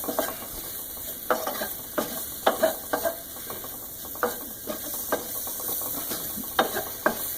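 Food being stirred around a pan with cinnamon, with repeated close scraping strokes of a utensil in an irregular rhythm over a soft background sizzle; no talking.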